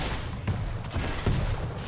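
Rockets fired and bursting in the arena shooter Quake Champions on the Vale of Pnath map: a run of sharp, punchy explosive blasts close together, one of them louder, over a dense, constant game-action din.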